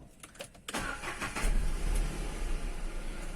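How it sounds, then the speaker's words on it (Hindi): Renault Kwid car engine cranks and catches at about 0.7 seconds, then settles into a steady, fairly loud idle rumble heard up close. "मैंने अब स्टार्ट कर दी ना गाड़ी। अब आपको इसकी इंजन नॉइस सुनाई दे रही होगी।"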